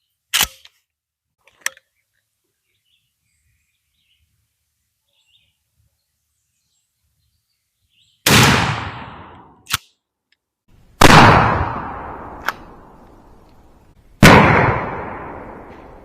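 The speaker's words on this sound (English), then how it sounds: "Let's shoot it another time at this here target down here at 30 yards." Shotgun firing Hornady lead BB shotshells at a target 30 yards away: three loud blasts with echoing decays, preceded and separated by sharp mechanical clicks in an otherwise quiet outdoor setting.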